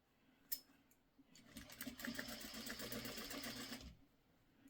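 A domestic sewing machine runs in one steady burst of rapid stitching for a couple of seconds as quilt block corners are sewn, preceded by a sharp click and ending abruptly, close and quiet.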